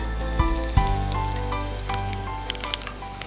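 Chopped onions sauté in a hot pan for beef vada, giving a steady, close sizzle with occasional pops and light stirring clicks and no voices.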